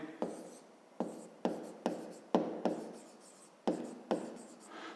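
Numbers written by hand for a fifth-grade math exercise, a series of about eight crisp pen-on-paper strokes in an irregular rhythm, close and quiet, with no talk.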